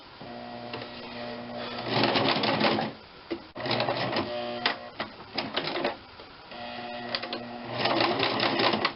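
A sewing machine stitches the sides of a nun's winged cornette veil, running in several rhythmic bursts of fast clattering with brief pauses between them.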